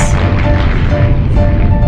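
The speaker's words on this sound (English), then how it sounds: "There's some cannons there." Cannon fire in the strategy video game Greed Corp lands as a loud booming blast that rolls on with crashing debris and rumble for about two seconds.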